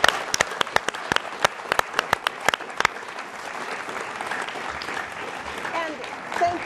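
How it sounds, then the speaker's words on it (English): Applause from the audience at a 2012 US Senate debate, starting with sharp, distinct claps that thin out after a few seconds into a softer crowd murmur. "Let's please give them another round of applause."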